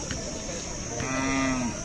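A Khillar bovine at the crowded Sangola weekly livestock market in Solapur lets out a single clear moo, close by and rising above a steady murmur of market noise.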